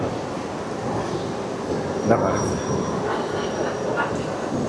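A high-speed bullet train bound for Rome rumbles in with a broad rushing roar and faint high squeals, steady and fairly close, with brief murmurs of voices in the background.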